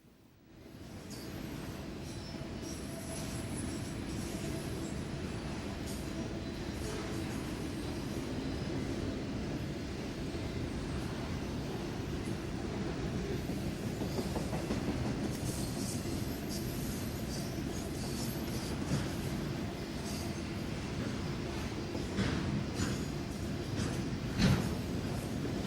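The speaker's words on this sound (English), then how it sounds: "We will hear several trains during the night being held out of Fort Wayne" Norfolk Southern trains pass at night on the New Castle District near Fort Wayne, a steady distant rumble of rolling cars that holds evenly throughout with a faint wheel squeal near the end.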